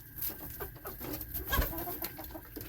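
Backyard chickens, big hens mixed with little chicks, cluck and coo softly while being fed treats, a low murmur of calls up close with no talking.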